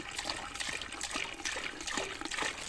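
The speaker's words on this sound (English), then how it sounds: "we're going to fill this about halfway with water" Water poured into a cooking pot to fill it about halfway at a cold-weather campsite, a steady splashing trickle that runs for a few seconds with no talking.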